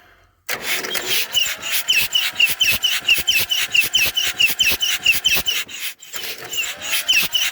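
A Massey Ferguson 35 diesel tractor cranks over on its starter in a steady rhythmic whirring chug with a faint squeal, close and loud, pausing briefly before cranking again without catching.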